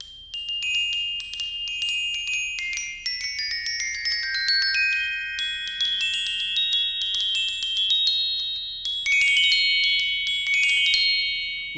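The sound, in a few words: glockenspiel with metal keys, bright sound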